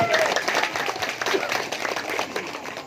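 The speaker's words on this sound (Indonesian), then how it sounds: "Tepuk tangan." Crowd applause at a declaration and pledge ceremony for a regional candidate pair in Barito Timur, dense steady clapping throughout, moderately loud and slightly distant, with a faint voice in the background.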